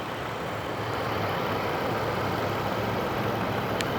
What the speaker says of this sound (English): Idling very happily, such a smooth powertrain.